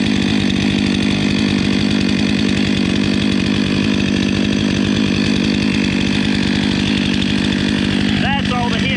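A Stihl MS 500i chainsaw bores its bar into a huge white oak with a hollow spot, running loud and steady at high revs close by for the whole stretch.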